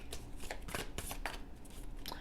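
Tarot cards being shuffled close by, a run of quick riffling bursts and soft slaps, fairly quiet with a low background hum.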